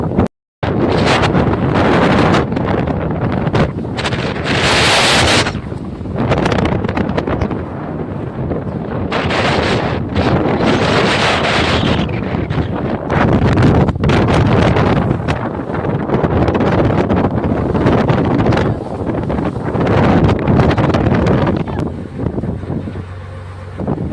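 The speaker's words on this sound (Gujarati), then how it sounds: "મોટા મોટા મોજા ઉછળી રહ્યા છે. આપણી બોટ છે ધીમે ધીમે આગળ વધી રહી છે." A boat moves through rough sea off Jafrabad, Gujarat, amid heavy, roaring wind buffeting the microphone, with surging bursts of wave noise rising and falling; no voices.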